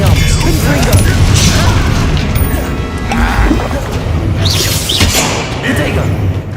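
A Confringo blast spell detonating in the game Hogwarts Legacy, heavy booming impacts and crashing rumble sustained at high volume through a hectic duel, with a voice calling out spells over the noise.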